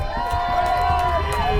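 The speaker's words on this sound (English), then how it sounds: "The Oceanside crowd" Home crowd at a high school football game at Oceanside, urging on the defense before a third-and-short play; steady, distant crowd roar with shouts and cheers mixed into the stands.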